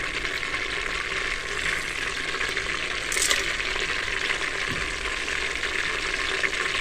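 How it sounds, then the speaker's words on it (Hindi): Whole spices fry in hot oil in a pressure cooker, giving a steady, close sizzle with occasional brief stirring scrapes and no voices. "इसको 2 मिनट हम भूनेंगे ताकि इसका फ्लेवर अच्छी तरह में आ जाए।"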